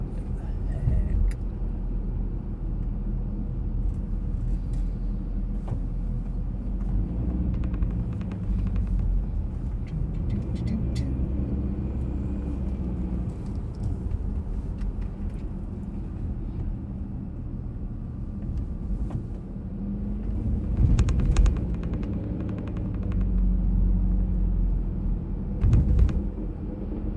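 A car drives along a single-lane road toward Tipsoo Lakes, heard from inside as a steady low engine and tire rumble that swells briefly near the end, with a voice talking over it at times.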